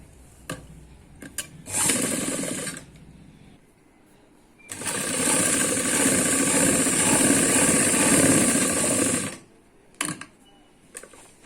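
A sewing machine stitches palazzo pants in two bursts, a short run and then a longer sustained whirring rattle of about five seconds, close and loud, with light handling clicks between.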